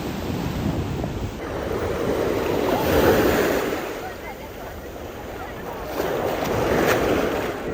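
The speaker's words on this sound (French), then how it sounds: "Il y a tellement de vagues les guys" Surf breaks and washes on a summer beach in slow swelling surges, a broad roar rising and falling twice, with wind noise on the microphone and a voice speaking over it.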